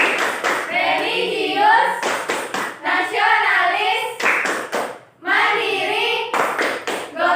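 Groups of quick rhythmic hand claps alternate with chanted words from a group of children in a classroom, a patterned clapping cheer.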